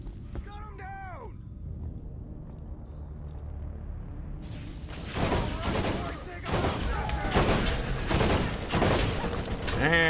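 Bursts of rapid gunfire in Borderlands GOTY Enhanced break out after a few seconds of quieter game sound, loud and sustained, with a voice heard at the start.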